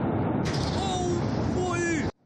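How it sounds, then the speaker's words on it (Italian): A huge warehouse explosion: a loud, deep roaring blast rumbles continuously, swelling brighter partway through, with faint shouting voices under it before cutting off abruptly. "Un'esplosione colossale, seguita da un boato spaventoso"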